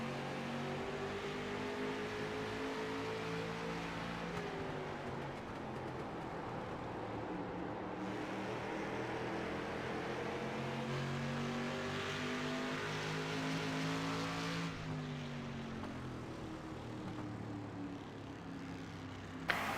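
Street stock race cars in a late-model oval race, several engines roaring together and rising and falling in pitch as they pass, a steady, loud, continuous pack sound throughout.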